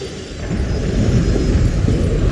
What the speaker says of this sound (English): Those explosions exposed some more bloodstones.